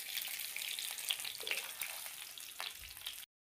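Fish frying in a pan, a steady close hiss of sizzling oil with small crackles and pops running continuously until it cuts off.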